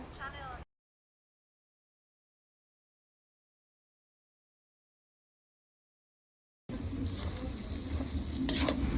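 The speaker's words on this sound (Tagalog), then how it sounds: "nagtingog-tingog na gyud kay ning gawas ng iyahang mantika" Pork fat sizzling in a pan while dinuguan cooks: after a brief burst at the start and a long stretch of silence, a loud, steady sizzle returns for the final seconds and keeps building.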